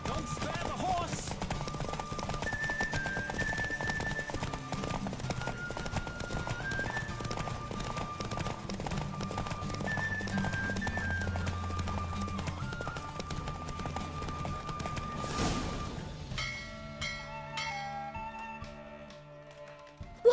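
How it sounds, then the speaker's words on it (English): Steady galloping hooves of a horse racing in The Witcher 3 drum on for a long stretch beneath orchestral music, then the pounding fades as the music carries on alone at the end. "Don't spare the horse!"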